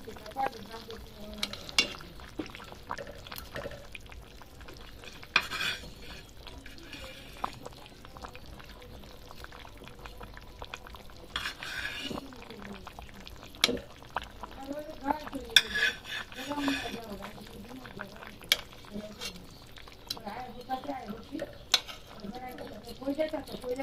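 A curry of Malabar spinach seeds, tomato, potato and small rohu fish sizzles in a pan, with repeated stirring scrapes and clinks of a utensil over the cooking; a voice speaks now and then.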